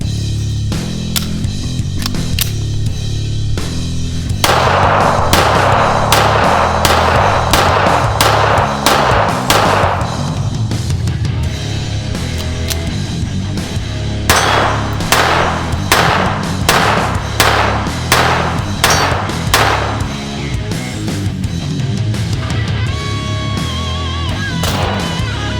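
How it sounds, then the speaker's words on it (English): Walther Model 4 pistol, a semi-automatic handgun, fired in rapid bursts of sharp, loud reports in two clusters with a pause between them, over steady background music. "Now let's get to some shooting footage and some more history."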